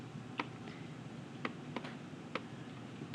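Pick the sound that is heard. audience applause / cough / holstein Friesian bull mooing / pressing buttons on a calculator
pressing buttons on a calculator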